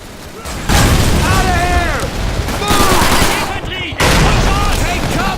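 Grenade blasts from Call of Duty 3 hit in three heavy, broad bursts about a second or two apart, each loud and close. Excited shouting carries over and between them.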